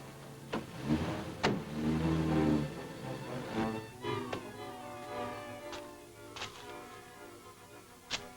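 A car engine hums and revs nearby, with a few clicks and knocks, then fades somewhat as it moves off.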